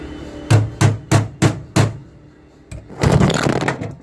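Tack welds go onto a patch piece in a V8 Chevette floorboard: five short, sharp crackling bursts in a row, then a pause and a longer sputtering burst, all close and fairly loud.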